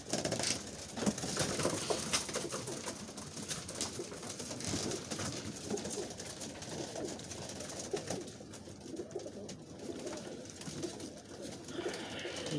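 Soft pigeon coos murmur repeatedly amid a busy, rustling background of flapping and shuffling, with no voices.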